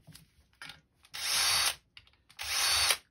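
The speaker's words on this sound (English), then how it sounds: "I'm going to use a power drill to get this done quick." A power drill taking apart a plastic hip clip gives two short stuttering whirs followed by two longer, loud, close bursts of high-pitched spinning and grinding, with silent gaps between them and no speech.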